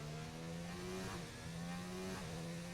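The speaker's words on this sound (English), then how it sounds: "I do hear some revving in the pit lane, so somebody's going out" Race car engine in a racing video game pit lane during qualifying at the Hungarian Grand Prix, a steady, fairly loud mid-pitched drone with rising revs and two brief gear-change dips, no talk.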